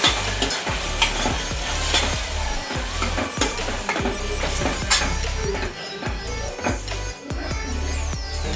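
Freshly ground chilli masala paste fries in a pan for mushroom pulao, a loud close sizzle broken by repeated scraping strokes and clinks of a spoon stirring it.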